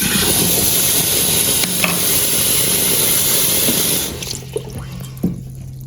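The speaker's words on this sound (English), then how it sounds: "let's run some water and see what it's doing" Water runs steadily from a tap into a basement bar sink, a loud constant rush that cuts off near the end, leaving a few faint drips and clunks.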